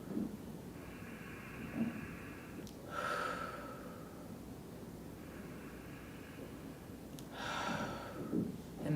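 Slow, deep breaths during a relaxation exercise, with long inhales and exhales repeating at an unhurried pace close to the microphone in a quiet room.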